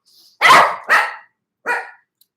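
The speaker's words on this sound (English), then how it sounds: "Once my dog stops barking." A dog barks three times indoors, two sharp barks in quick succession, then a short pause before a third, loud and close in otherwise quiet surroundings.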